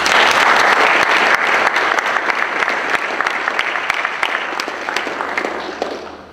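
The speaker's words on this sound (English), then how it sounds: "I think we should give him a round of applause for his editorship, his scholarship, and his years of service at UCF." A lecture audience at UCF gives a loud, sustained round of applause honoring a retiring scholar and editor, dense clapping that slowly tapers off toward the end.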